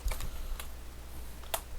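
A few sparse, light taps on a computer keyboard while searching mods in Minecraft, spaced unevenly with quiet gaps between keystrokes and no talk over them.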